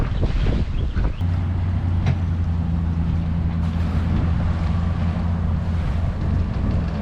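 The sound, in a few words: old dinghy boat on the water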